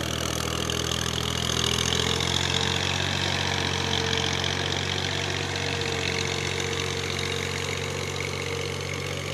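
A tractor engine runs steadily while preparing a village field for paddy, giving a loud, unbroken low drone with a rough mechanical hum that holds at an even level throughout.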